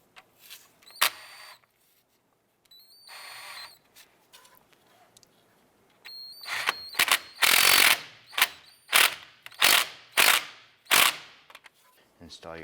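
A ratchet or tool clicks in rapid bursts while snugging a nut during a CV axle replacement on a 2001-2005 Honda Civic, with quiet pauses early and a run of loud, repeated ratcheting strokes later.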